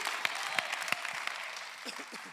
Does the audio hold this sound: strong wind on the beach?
no